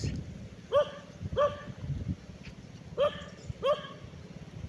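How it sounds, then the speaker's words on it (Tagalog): A dog barks four times in short, sharp bursts, two close pairs separated by a pause, over a steady low rumble of surf or wind. "Kaya kinakahulan niya yung tao."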